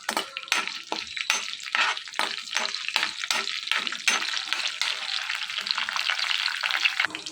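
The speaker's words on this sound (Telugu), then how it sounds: "ఆయిల్ బాగా వేడెక్కిన తర్వాత ఎల్లుల్లిపాయలు, జీలకర్ర, ఎండుమిర్చి, కరివేపాకు, పచ్చెనపప్పు ఇవన్నీ వేసుకుని బాగా వేయించుకోవాలి" Garlic, cumin seeds, dried red chilies, curry leaves and chana dal sizzle hard in hot oil, with a steady crackling hiss broken by regular scraping strokes of a spoon stirring the pan, close and fairly loud with no voices.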